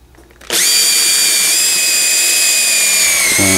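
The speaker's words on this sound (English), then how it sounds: "Drill a hole in the middle of there." A power drill bores a starter hole in wood for a scroll-saw Christmas ornament, spinning up sharply after a brief quiet moment into a loud, steady whine that holds close by, then bogs slightly near the end.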